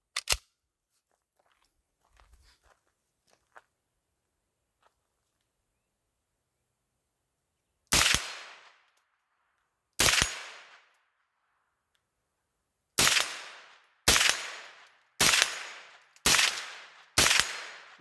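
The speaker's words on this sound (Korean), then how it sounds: "제대로 쏠 수 있을지 한 사격 한번 해보겠습니다" Gunshots from a Heckler & Koch HK94 9mm rifle fired outdoors on a hillside range: two separate sharp cracks, then a quicker run of five shots, each loud and close with a short echoing tail, no talking.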